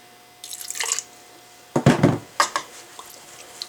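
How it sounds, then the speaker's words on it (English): A small splash of water poured into a strawberry fruit drink mixture, heard as a few brief close pours and drips with short pauses between. "I'm going to put a tiny splash of water in here"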